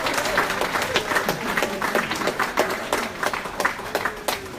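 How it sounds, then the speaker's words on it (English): An audience at a Nigerian nurses' charity association gathering in the UK claps steadily and loudly for several seconds, a dense patter of many hands with a few voices mixed in. "Let us continue clapping."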